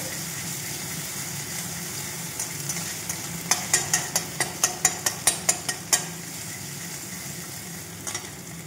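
An egg is scrambled in hot oil with a little salt and turmeric, a steady sizzle under a quick run of sharp metal taps from a utensil against the pan.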